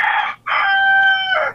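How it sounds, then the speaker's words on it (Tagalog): A rooster crows loudly and close by in the Bicol region of the Philippines: a short opening note, a brief break, then a long, drawn-out crow that trails off, with no talking. "Yung manok ang sumasagot sa iyo"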